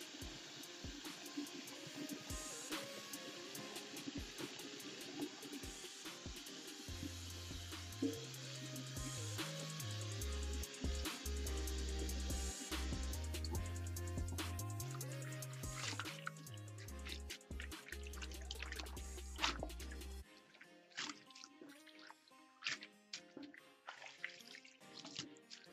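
Tap water runs steadily into a sink filling up to wash crochet braid hair, a continuous rushing hiss that cuts off near the end, with low tonal sounds underneath and faint trickles afterward.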